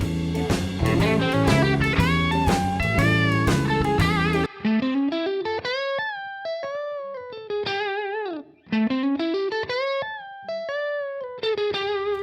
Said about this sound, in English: I'm going to show you a very musical tapping lick you can use over a blues.